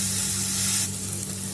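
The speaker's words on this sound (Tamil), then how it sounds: "இப்போ ஆனியன் நல்லா வதங்கட்டும்." Onions sautéing in a pan for egg fried rice, a steady close sizzle of frying that softens slightly partway through, with no talking.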